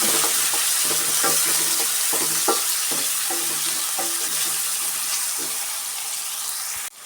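Tomato and peas fry in a pan with a steady, close sizzle, while a spoon stirs through them in repeated scraping strokes until the sound cuts off abruptly.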